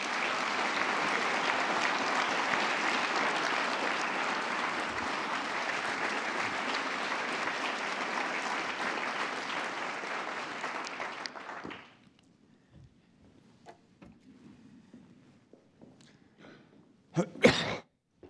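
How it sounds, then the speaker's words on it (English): Audience applause for faculty at a medical university event, a steady full round of clapping from a crowd lasting about twelve seconds before cutting off, followed by near quiet with a few coughs and small noises. "a round of applause for our faculty as well"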